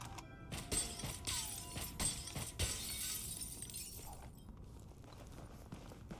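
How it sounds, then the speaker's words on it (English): Glass shatters in the video game Hitman, a series of sharp crashing breaks with tinkling debris in quick succession, then a quieter tail of scattered clinks and mechanical clicks. "break all of the glass"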